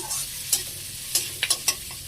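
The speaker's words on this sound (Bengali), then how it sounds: "সকাল সকাল পেঁয়াজ লঙ্কা কাঁচা টমেটো দিয়ে ডিমের ভুজিয়া" Eggs frying in a pan with onion, green chili and raw tomato, a quiet steady sizzle broken by several sharp spatula scrapes and stirs, with no voices.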